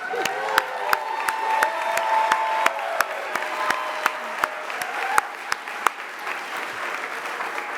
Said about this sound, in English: So give yourself make a joyful noise, and let's clap.